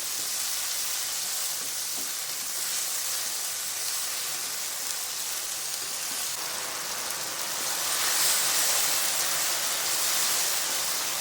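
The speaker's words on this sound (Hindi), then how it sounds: "अच्छी तरह से मिक्स करेंगे और 2 से 3 मिनट के लिए इन तमाम स्पाइसेस को वेजिटेबल के साथ कुक कर लेंगे" Spices, sugar and vegetables for a pink sauce macaroni fry in a pan as they are mixed, producing a dense, continuous sizzle that swells louder near the end, close by with no speech.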